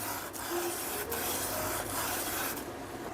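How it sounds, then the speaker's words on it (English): Sandpaper rubbing along the edges of a leather hatchet sheath, a steady, soft, close rasping that continues for about three seconds, with faint strokes and no talking. "I sanded and smoothed the edges to 400"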